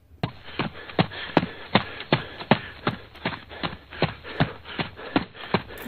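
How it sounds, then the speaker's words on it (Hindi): Rapid, heavy footsteps of someone running down a staircase, about a dozen sharp thudding steps in a quick, steady rhythm, close and loud with no voices. "थोड़ा और नीचे जाने पर जोर से किसी के नीचे आने की आवाज आने लगी।"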